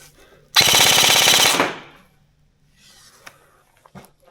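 A Krytac airsoft rifle fires one full-auto burst with .32 BBs, a loud rapid rattle lasting about a second, followed by faint handling clicks.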